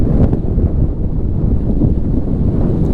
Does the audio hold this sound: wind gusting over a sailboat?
yes